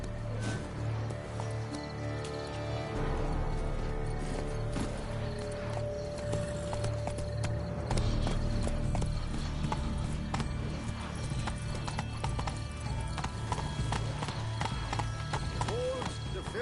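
Horse hooves clip-clop in a steady rhythm beneath a music-like backdrop in The Witcher 3, with a brief whinny and scattered game sound effects.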